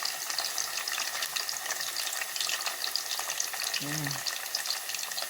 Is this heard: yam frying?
yes